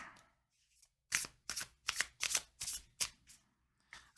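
Tarot cards being shuffled in a run of sharp, papery bursts, about seven close riffles in quick rhythm, with no talk.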